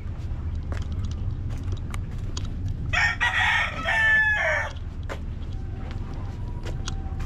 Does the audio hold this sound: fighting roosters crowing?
yes